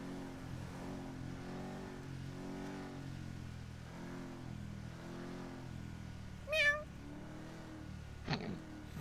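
During a GTA V roleplay drive-by, a person imitates a cat with a short rising meow over the steady drone of a car engine, then a second brief yowl near the end.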